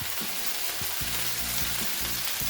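A burger fries in a pan with a steady, close sizzle, broken by a few soft pops and crackles.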